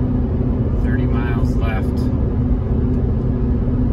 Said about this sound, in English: truck's been doing great, chugging right along